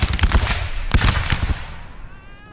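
Musket volley gunfire in the video game Napoleon Total War, a rapid crackling burst of overlapping shots in the first second and a half, close and loud, fading into a thinner tail with no talk.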